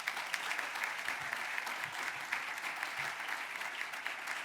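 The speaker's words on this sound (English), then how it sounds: "another round of applause for Kurt Reiber?" An audience gives a steady round of applause for Kurt Reiber at a food bank campaign celebration, many hands clapping continuously at moderate distance with no talk over it.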